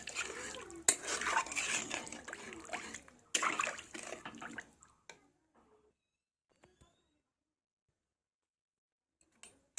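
Water poured into a pan of fish curry, with clattering of a pot and utensils and splashing in the first half, then fading to near quiet with a few faint knocks.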